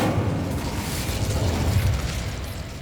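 The Incendio fire spell in Hogwarts Legacy bursts into a dense, roaring whoosh of flame with heavy low rumble that holds steady and loud for nearly three seconds before easing slightly.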